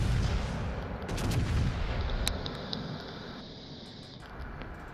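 Heavy naval gunfire from an Iowa battleship in World of Warships Legends: a loud, rumbling broadband boom with a sharp crack midway, fading into a lingering low roar.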